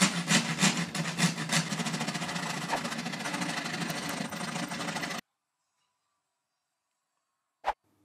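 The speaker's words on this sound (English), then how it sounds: "I get it cut out with the coping saw" A coping saw cuts through wooden moulding in fast, steady rasping strokes for about five seconds, close and loud, then stops; a single sharp knock follows after a pause.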